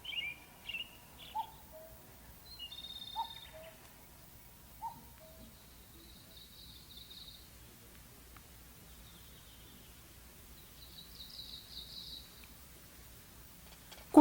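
Small birds call and chirp in an open Oze wetland in Japan, with scattered short high chirps early on and two longer trilling songs later, fairly distant over a soft breezy background.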